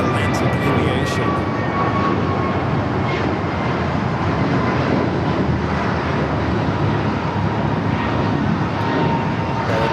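An airliner taking off from runway 25 right at Los Angeles International Airport, a loud, continuous jet engine roar that stays steady throughout, with faint higher whine layered on top.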